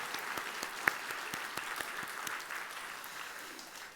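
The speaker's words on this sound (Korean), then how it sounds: "우리 함께 박수로 함께 드리도록 하겠습니다" A church congregation applauding during a Sunday worship service, a sustained roomful of hand claps with a few sharper individual claps standing out, moderately distant and slowly fading toward the end.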